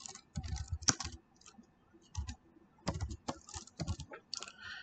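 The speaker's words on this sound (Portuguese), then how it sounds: "Digitando total assets" Fingers tap out "total assets" on a computer keyboard while entering data in Refinitiv financial software: quick bursts of close, crisp key clicks separated by short pauses, with no talking.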